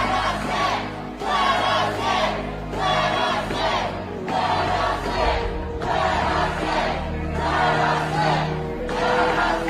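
A protest crowd of a couple thousand people on a state capitol lawn, loud rhythmic chanting in repeated surges with short pauses between, a dense mass of voices heard from within the gathering.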